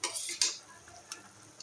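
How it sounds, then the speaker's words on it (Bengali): Katla fish curry simmers in a pan while a spoon stirs it, giving a few soft scraping strokes over a faint bubbling sizzle, close and quiet, with no talk. "কারিটা ফুটছে"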